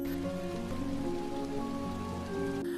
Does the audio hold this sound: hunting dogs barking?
no